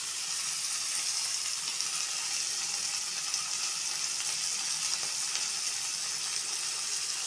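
Vegetables for veg fried rice frying in a pan, a steady, even hiss of sizzling that runs unchanged throughout, fairly close and without any talk.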